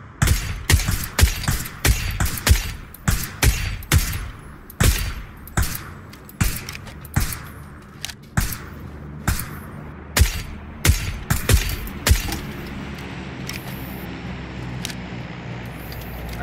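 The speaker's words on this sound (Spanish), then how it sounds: "Tiros en la playa." Gunfire in the battle royale game PUBG near a beach: sharp shots and quick bursts, some loud and close, others fainter, in an irregular rhythm over about sixteen seconds, with no talking.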